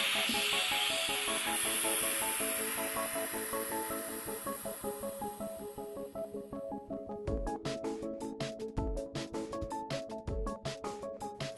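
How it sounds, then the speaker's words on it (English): Air rushing back into a vacuum chamber holding a water bottle and balloon, a loud steady hiss that fades over several seconds into a string of sharp crackling pops and clicks. "So now we're going to let the air back in the vacuum chamber."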